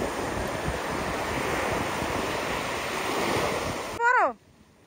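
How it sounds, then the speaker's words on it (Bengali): Big ocean waves break and roar continuously on Juno Beach, Florida, with buffeting wind across the microphone, before the surf noise cuts off abruptly near the end, followed by a brief high sliding tone. "এই যে আরেকটা বড় ঢেউ আইতেছে"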